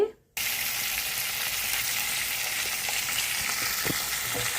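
Dried ribbon fish fry in a pan with a dense, continuous sizzle that starts abruptly after a brief quiet moment and holds steady and close throughout.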